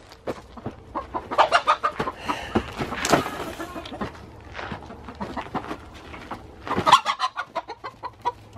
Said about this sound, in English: Come to your home, chickens!